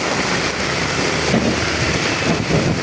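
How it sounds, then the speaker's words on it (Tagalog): Heavy rain pouring steadily, a dense hiss with gusty wind noise buffeting the microphone. "bali nagsimula na naman yung paglakas ng ulan dito"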